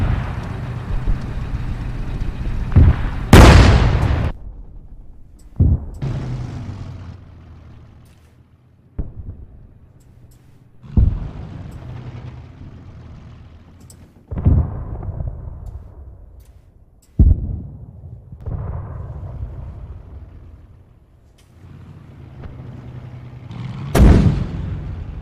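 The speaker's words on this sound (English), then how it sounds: "Shooting again. They must have some targets." Heavy gunfire and artillery booms in the Arma 3 winter mission Ragnarok'44, with about seven loud, sharp reports spaced a few seconds apart, each trailing off into a long rumbling echo.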